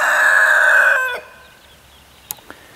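A chicken gives one loud, close, drawn-out call that breaks off, followed by quiet and two faint clicks.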